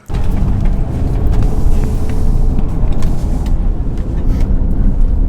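A Ford Escape, Mercury Mariner or Mazda Tribute is driven on a road after a rear camber repair, giving a loud, continuous low road and engine rumble heard close, with no speech.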